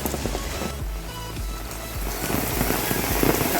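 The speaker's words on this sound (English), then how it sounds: "Almond is standing in the rain." Steady rain falls around a dog standing outdoors, a dense, even patter of drops on a hard surface heard close and continuous, with faint background music underneath.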